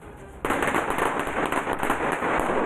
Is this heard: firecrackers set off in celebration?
yes